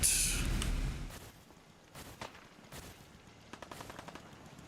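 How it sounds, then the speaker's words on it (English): Gunfire from a battle in Fallout 4: a loud burst up front, then scattered distant shots and short rattling volleys, with no voices. "And there's gunshots here."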